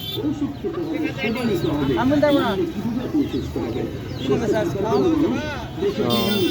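Pigeons of various breeds coo repeatedly at the Taherpur market, their soft rolling calls running under continuous conversation and crowd chatter.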